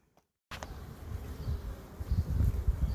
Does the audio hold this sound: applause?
no